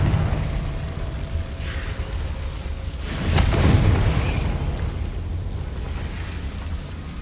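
In Hogwarts Legacy, a Confringo blasting spell lands with a single deep, muffled boom midway, rising out of a steady low rumble of game ambience.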